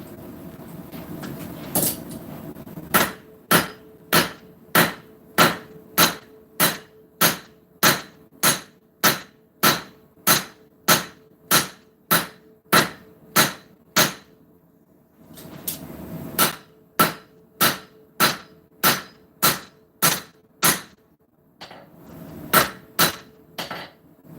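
A hammer strikes steel on an anvil, forging a distal taper in steady rhythmic runs of sharp, ringing blows with brief pauses between the bursts.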